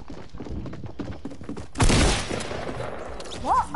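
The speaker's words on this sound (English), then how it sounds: "I've just hit him with a hand cannon." Hand cannon shots in a first-person shooter video game, a loud burst of gunfire and thuds mid-clip amid chaotic game noise, with players talking throughout.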